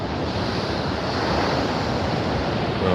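Pacific Ocean surf breaks on a beach at low tide with resorts and beach homes along the coast, a continuous close roar of waves mixed with wind buffeting the microphone.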